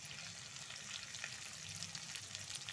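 Potatoes frying in oil, a soft, even, fairly faint sizzle and crackle that runs steadily throughout with no voices.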